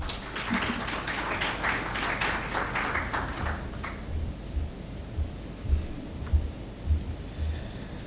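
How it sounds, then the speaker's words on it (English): Audience at a CFA Society Pakistan capital markets event claps to welcome a speaker, a dense burst for about four seconds that fades out, followed by faint low thumps. "Please join me in applause in welcoming Mr."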